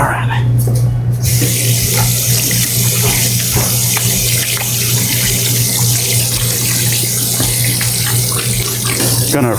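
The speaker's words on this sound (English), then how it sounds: "Gonna rinse my hands a little bit." Tap water runs steadily into a sink as hands are rinsed during home bread baking, a continuous close hiss with faint kitchen clatter.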